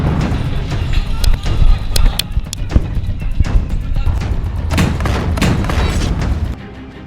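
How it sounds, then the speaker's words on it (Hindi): Hamas fighters blowing up an Israeli tank, heard as a loud chaotic run of booms and sharp blasts in quick succession, with heavy low rumble and cracking impacts throughout, ending abruptly. "इजरायल के टैंक को ऐसे उड़ा रहा है हमास।"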